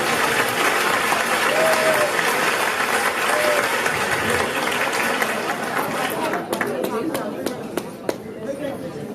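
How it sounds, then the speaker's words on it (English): An audience at a graduation celebration claps steadily in a room, the dense applause thinning into scattered individual claps toward the end, with voices and cheering mixed in. "So, big round of applause."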